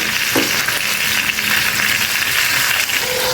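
Green or dried chillies fry in a pan, giving a steady, close sizzle with a faint clink of a utensil partway through and no talking.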